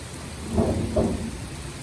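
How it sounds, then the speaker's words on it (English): Steady rain falls in a continuous soft hiss, with a couple of faint low rumbles within a short stretch. "The rain just keeps coming down, down, down."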